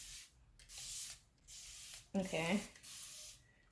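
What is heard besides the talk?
spraying rose water from a mister bottle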